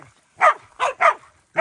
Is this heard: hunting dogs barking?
yes